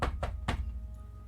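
Three sharp knocks on a door in quick succession, close and distinct, followed by a quiet room tone with a faint hum.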